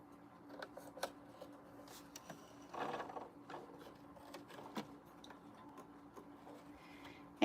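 A sewing machine stitches a zipper pencil case, its faint needle ticking running in short uneven bursts with soft mechanical clicks and a brief louder whirr partway through.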